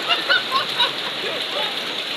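Steady rain falls as a continuous hiss after a long dry spell, with a few faint indistinct voices near the start.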